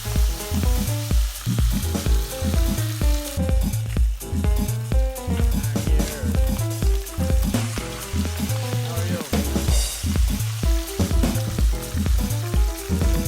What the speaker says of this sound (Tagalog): fry the fish until golden brown